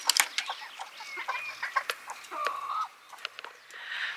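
A broody hen on the nest gives a string of soft, close clucks and short murmuring calls in an irregular rhythm, fairly faint, with no voices.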